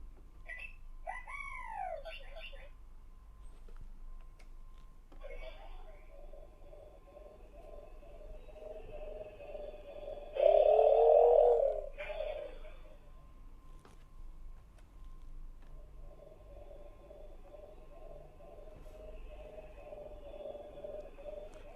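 Chirpy electronic bleeps and warbling tones from a Star Wars LO-LA59 toy droid, with a louder buzzing burst midway over a steady low hum.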